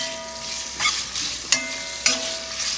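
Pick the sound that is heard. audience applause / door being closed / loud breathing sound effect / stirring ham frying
stirring ham frying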